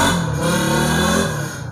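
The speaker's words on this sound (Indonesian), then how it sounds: "sorry kalau ada suara motor ya guys ya" A motorcycle engine hums and drones steadily in the background, a continuous low rumble with slight shifts in pitch and no voices over it.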